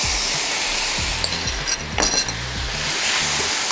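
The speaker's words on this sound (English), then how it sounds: "Now we add the sauce." Sauce hits char kway teow noodles in a hot wok, a loud, steady sizzle with scraping and clinking of a spatula against the pan, close up and without talk.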